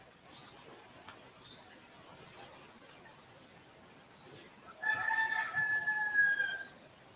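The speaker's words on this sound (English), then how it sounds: "No, just the rooster." A rooster crows once, faint and distant, in a quiet outdoor yard with soft background hiss and a few scattered chirps before it.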